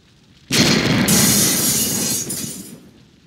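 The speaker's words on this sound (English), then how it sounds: "It's a grenade." Grenade explosion in the video game Silent Storm: a sudden loud blast that bursts in at once, followed by a sustained roaring, crackling rumble with debris-like hiss that slowly fades over a few seconds, heard alone.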